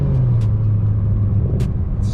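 The N54 engine of a BMW 335i with an upgraded twin-disc clutch lugs and bogs as the car pulls away, a loud low rumble dipping in pitch as if close to stalling, with a few brief clicks over it.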